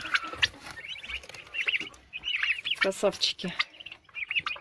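Month-old turkey poults chirp and peep in a cluster of high, wavering calls, close by, with a person speaking briefly among them.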